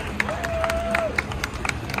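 An audience at a Paris tattoo convention claps and cheers in a crowded hall. The sound is dense, with sharp louder claps over steady crowd noise, a brief whistle-like tone and background chatter.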